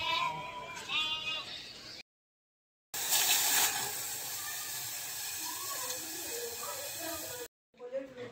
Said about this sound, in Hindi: ये देखिए मेरे घर के सामने से कितने सारे भेड़ जा रहे हैं